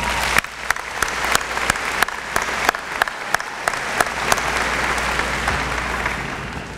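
An audience at a high school graduation ceremony applauds in a large venue, a sustained wash of many hands clapping, loud and steady throughout with faint crowd murmur.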